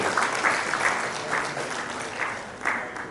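Applause from a symposium audience at a Faculty of Economics and Management Sciences event, greeting speaker Mr. Oladayo; steady, fairly close clapping from a sizable crowd with a few louder swells, no talk.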